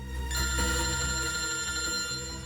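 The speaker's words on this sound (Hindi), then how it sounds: "फ्रेडी का फोन?" A telephone bell rings steadily in a tense detective drama scene, a loud, continuous electronic trill heard alone with no one speaking.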